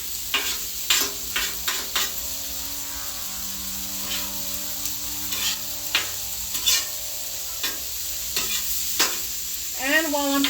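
Chicken, shrimp, salmon and asparagus sizzle steadily on an outdoor griddle grill, a continuous loud frying hiss broken by clinks and scrapes of a metal spatula.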